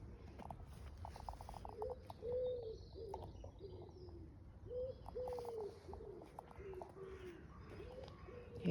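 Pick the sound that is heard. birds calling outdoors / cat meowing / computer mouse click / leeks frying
birds calling outdoors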